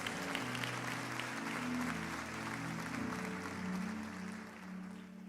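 A church congregation claps for Jesus, the applause soft and distant beneath sustained keyboard chords and drifting melodic notes that carry on steadily.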